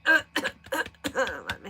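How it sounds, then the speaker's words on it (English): A man clears his throat several times in a row with short, rough bursts close to the microphone, and no talk comes between them. "clear my throat"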